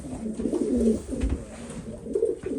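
A pigeon coos in a loft, low throaty rolling calls repeated in short phrases, close and fairly clear over faint background noise.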